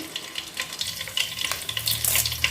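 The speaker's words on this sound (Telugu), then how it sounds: "ఆయిల్ హీట్ ఎక్కిన తర్వాత సహజీరా రెండు మూడు పచ్చిమిర్చి" Cumin seeds and green chillies sizzle in hot oil for a chicken curry, a short close crackling fry with light stirring and a low hum, no talk.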